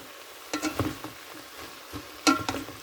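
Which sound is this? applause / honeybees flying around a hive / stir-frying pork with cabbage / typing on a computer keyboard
stir-frying pork with cabbage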